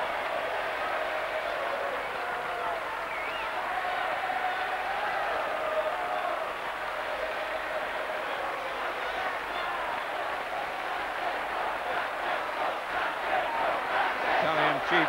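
A huge stadium crowd in Rome roars continuously for the winner of the 3,000m steeplechase final at the 1987 World Athletics Championships, a sustained swelling cheer beneath a commentator's voice.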